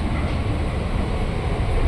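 A KRL commuter train arriving at Cikarang station, a dense steady rumble and rolling roar heard close up and loud, with no voices.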